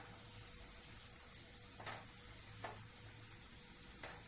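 Field beans (birde) fry softly in a pan, a low steady sizzle with a few sharp stirring scrapes or clinks breaking through now and then.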